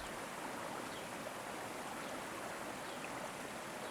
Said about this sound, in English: the distant waterfall keeping its steady, reassuring song.